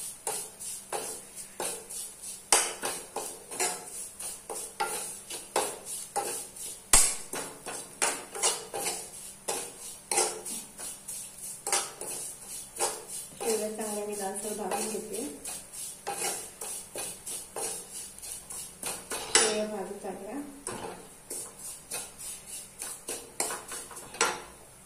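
Wheat vermicelli roasting in a pan for kheer, stirred steadily with a utensil that scrapes and clinks against the metal in quick, busy strokes, close and fairly loud throughout, with a faint sizzle beneath.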